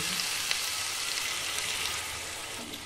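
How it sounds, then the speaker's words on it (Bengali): A pan of curry with coconut milk bubbles at a boil, producing a close, even sizzling hiss with faint popping and no voices. "দেখো এটা ফুটে উঠেছে।"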